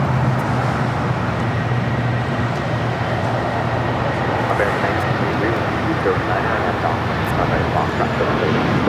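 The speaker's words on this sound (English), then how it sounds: "This is United Airlines 221 taking off to Newark on a 757-200." A United Airlines Boeing 757-200 takes off at LAX, a loud, continuous broadband roar that stays steady and close the whole time.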